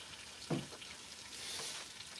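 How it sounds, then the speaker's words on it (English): Rabbit meat fries quietly in a pan, giving a soft, steady crackling sizzle with one brief louder clatter early on, heard faint and alone. "Oh, that rabbit is a sizzling."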